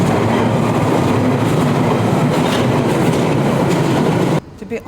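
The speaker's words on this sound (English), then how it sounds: "Here is the local metro," A London Underground metro train runs in a packed carriage, a steady loud rumble with rail clatter that stops abruptly near the end, with some voices underneath.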